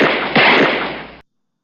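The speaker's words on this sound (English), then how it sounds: "some of us have been in situations where we just heard rifle fire" Recorded rifle gunfire played back as an example: two loud, sharp bursts close together, each with a harsh rolling decay, the whole thing cutting off abruptly after about a second.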